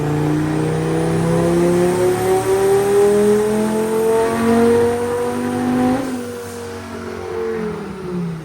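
A turbo Volvo engine swapped into a classic International truck revs and holds steady as exhaust cam angles are tuned. The loud, close engine drone rises in pitch, then drops back and settles near the end.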